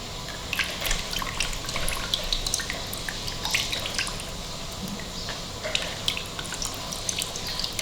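Buttermilk drains and drips through a strainer while homemade desi ghee is separated. The patter of drops is close and steady over a soft running trickle.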